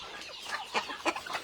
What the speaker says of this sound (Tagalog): Nangihingi na ng pagkain yung mga itik.